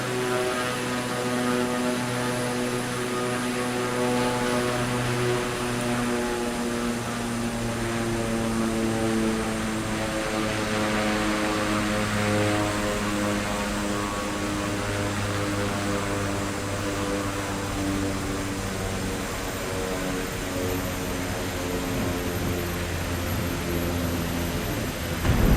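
Propeller aircraft engine in Microsoft Flight Simulator 2024 drones steadily throughout, a loud continuous tonal buzz with layered harmonics and a slight waver in pitch, with no voices over it.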